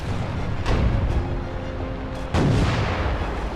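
Two heavy ship cannon booms from the game Furious Seas go off about two seconds apart, deep and loud, over a continuous rumbling background.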